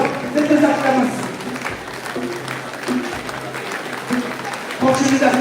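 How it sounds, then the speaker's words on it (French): A church congregation at a night prayer vigil cheers and applauds in surges, rising and falling, with a leader's voice calling out over the clapping. "Continue d'acclamer, continue d'acclamer."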